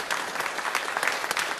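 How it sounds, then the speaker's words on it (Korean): A congregation applauds in a church service to congratulate a newlywed couple: a continuous, fairly close patter of many hands clapping at an even, moderate loudness. "박수 한번 해주세요"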